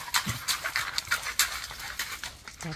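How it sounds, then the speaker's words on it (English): A blue heeler dog at a horse barn gives a short burst of hacking, panting-like coughs, a quick uneven series of rough breathy bursts, fairly close and with no talking over it. "That hacking sound, that was Regan, one of the blue heelers"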